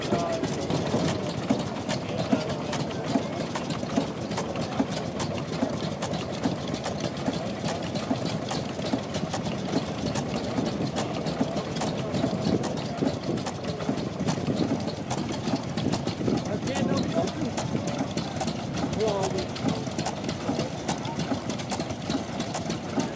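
An antique Deutz E12 engine from the early twentieth century runs steadily, a continuous low mechanical chugging and rattling held at an even level for the whole stretch, with a voice talking over it.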